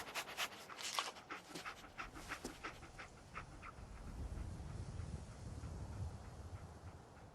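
Dogmeat, the dog companion in a Fallout game, pants steadily in quick rhythmic breaths, close but quiet, alone without talk.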